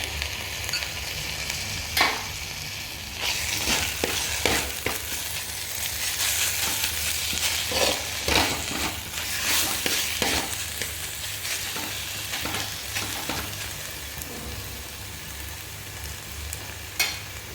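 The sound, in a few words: ginger garlic paste frying with onion and green chillies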